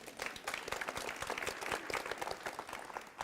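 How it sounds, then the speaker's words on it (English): An audience at a school address breaks into applause, a dense, even patter of many hands clapping that sounds faint and somewhat distant throughout. "Give yourselves a round of applause."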